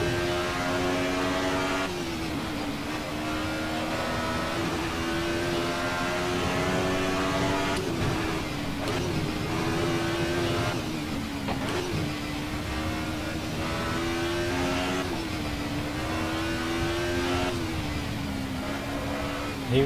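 An Alfa Romeo 155 Ti V6 race car laps Imola in Assetto Corsa, its V6 engine droning loudly and continuously, pitch rising and falling through gear changes and corners.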